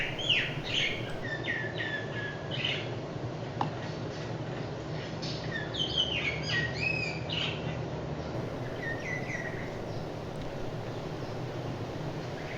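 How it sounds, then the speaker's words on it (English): Wild birds chirp and trill outdoors, several calls overlapping at moderate distance over a steady breezy background hiss, with no one speaking. "I guess the wild birds are saying yes."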